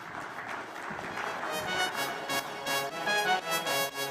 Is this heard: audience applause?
yes